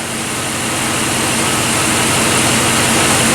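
A 2007 GMC Yukon with a replacement engine runs steadily, a loud continuous broadband roar that holds level throughout with no talking over it.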